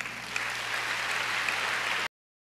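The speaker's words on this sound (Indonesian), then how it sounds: "Tepuk tangan." A church congregation at a Christmas service applauds in a steady, dense burst of clapping for about two seconds before it cuts off abruptly.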